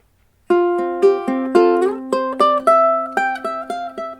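A ukulele plays a short phrase of the folk tune Over the Waterfall, about a dozen plucked notes in a bouncy, even rhythm, close and clear with no voices.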